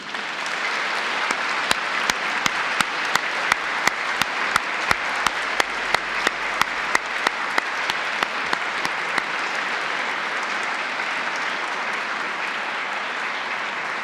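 A crowd applauds steadily for the whole stretch inside the Basilica of Argenteuil after Vespers, dense even clapping with a few sharper nearby claps standing out, no voices.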